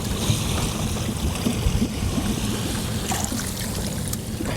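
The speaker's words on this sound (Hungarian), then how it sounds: "Akkor megtöltöm én is a kulacsomat." Water from Great Bear Lake, beyond the Arctic Circle, trickles and gurgles steadily as a water bottle is filled from a boat, with lapping water and wind noise all around.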